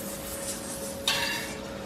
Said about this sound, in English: Oh, you can hear the sizzle.